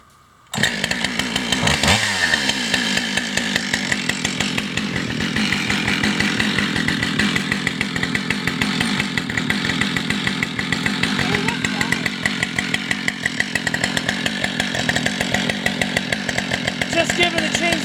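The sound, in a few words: chainsaw idling to warm up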